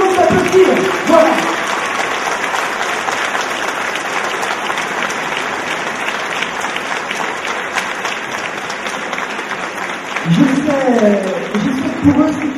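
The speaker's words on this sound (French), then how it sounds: "Que je vous demande d'applaudir." Sustained applause from a large audience at a Miss Orléanais beauty pageant, steady and close, with a voice speaking briefly in French at the start and again near the end.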